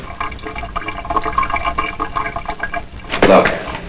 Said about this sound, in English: Look, there's another drip.